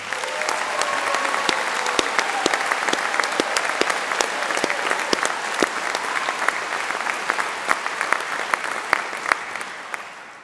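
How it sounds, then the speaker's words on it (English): A hall audience gives sustained applause for student musicians from the Royal Birmingham Conservatoire, dense steady clapping filling the room throughout and tapering slightly at the end. "can we give a warm round of applause to our amazing musicians from the Royal Birmingham Conservatoire?"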